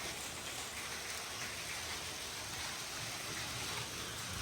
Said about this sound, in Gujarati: કેટલા કરા પડે.